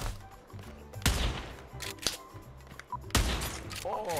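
Gunfire in the VR shooter Pavlov VR, two sharp loud shots about two seconds apart with clicks and mechanical handling noises between them.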